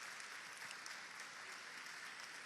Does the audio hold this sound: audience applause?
yes